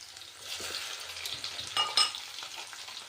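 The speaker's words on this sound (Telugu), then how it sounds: "వెల్లుల్లిపాయలు కచ్చా పచ్చగా దంచుకొని ఆయిల్లో ఫ్రై చేసుకో." Coarsely crushed garlic fries in oil, a soft, close sizzle with a couple of quick utensil scrapes and clinks near the end, no speech.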